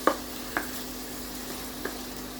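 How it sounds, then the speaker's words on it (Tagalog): Tomatoes fry in a pan for a lamb mechado, giving a steady low sizzle with three brief sharp clinks of stirring spread across the short stretch. "Fry until it becomes soft and can be smashed."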